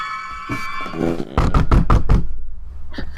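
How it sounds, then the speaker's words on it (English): A research assistant knocks on a laboratory door: a quick series of about five firm, hollow knocks following a sustained tonal musical passage. "Just then, a research assistant knocks on the door to your lab"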